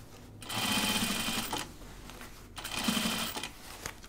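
An industrial sewing machine top-stitches denim jeans in two bursts of rapid, buzzing stitching, each about a second long with a short pause between, close and fairly loud.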